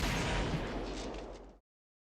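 Daggers exploding in the video game Exos Heroes: a single loud, roaring blast that sustains for about a second and a half, then cuts off abruptly to silence.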